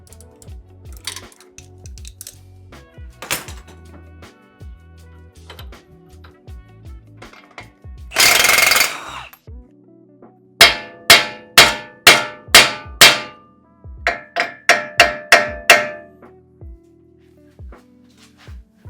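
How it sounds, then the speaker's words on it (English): A 21 mm wrench works on the worn drag link of a 2016 Jeep JK, giving sharp metallic clanks and ringing taps, some in quick repeated series, with a brief rushing burst in the middle and no talk. "To get the drag link off, we need a 21mm wrench."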